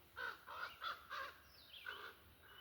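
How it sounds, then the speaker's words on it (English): Several harsh caws from crows ring out in a quick series of four, a brief pause, then another caw, fairly distant over quiet background. "Why do I feel like these crows are an alarm system?"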